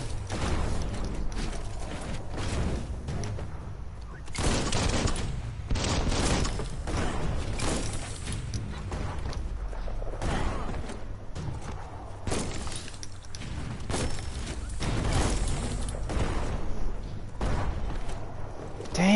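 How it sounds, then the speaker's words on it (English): Bomb lobber weapon in Biomutant repeatedly firing and detonating, with heavy mechanical clanks and shattering bursts in a dense, loud sequence of impacts over constant game noise. "That's a bomb lobber"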